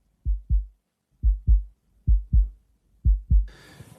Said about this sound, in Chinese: 靠这么近，我都能听到他的心跳了。